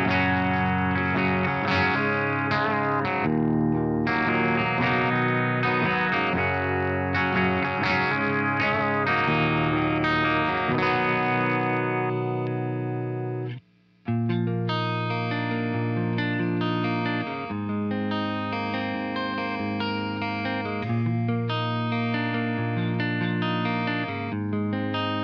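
Electric guitar chords played through a crunchy British Plexi-style overdrive pedal, ringing and sustained, with a brief silent break midway before the riff resumes.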